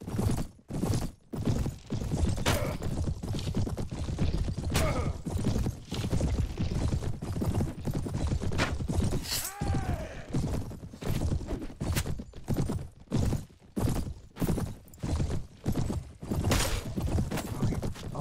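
Horse hooves clatter in a Mount and Blade Warband battle, a busy irregular clip-clop mixed with sharp combat impacts and a brief whinny, loud and close throughout.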